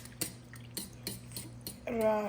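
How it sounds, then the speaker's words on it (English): A fork circulates water around soaking banana stem in a bowl, giving soft repeated clinks against the bowl before a fuller watery swish near the end. "Take a fork and just rotate the water, just circulate the water a couple of times"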